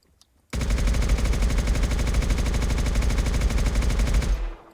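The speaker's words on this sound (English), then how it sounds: "Not bad for hip fire, actually." An automatic gun hip-fired in the Mass Effect mod for Arma 3 lets off one loud, unbroken burst of rapid, evenly spaced shots lasting about four seconds, then cuts off sharply.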